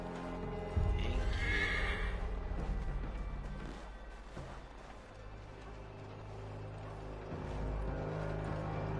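A horse in Assassin's Creed 3 gives one loud, shrill neigh early on, followed by game rumbles and clatter that fade and then swell again.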